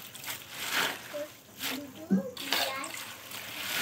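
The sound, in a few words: washing cabbage under running water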